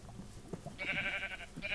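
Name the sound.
sheep bleating in Minecraft video game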